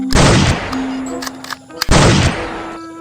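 A toy gun fires two long bursts of rapid shots, each about half a second, separated by a short gap, loud and close with a faint tone running between them.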